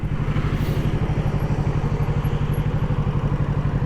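A 2020 Kawasaki Ninja 650 sits idling at traffic lights, its engine giving a steady, close, even low throb with no voices.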